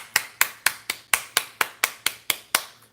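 Sharp, evenly spaced claps or slaps, about eleven in three seconds, crisp and close with a steady rhythm and no talking.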